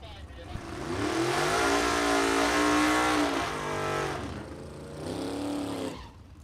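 A vintage drag race car makes an easy launch on a license pass, with the engine roaring loud and rising in pitch for several seconds before it eases off and fades.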